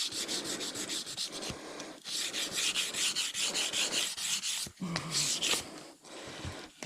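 Hand sanding an epoxy LED lamp with 80 grit sandpaper: steady, close scratchy rubbing strokes in quick rhythmic bursts, with a few brief pauses between passes.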